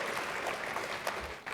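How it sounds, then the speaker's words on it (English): An audience at a scholars program event gives brief applause, a steady patter of many hands clapping at moderate distance with no voices over it. "Oh, and some applause for that."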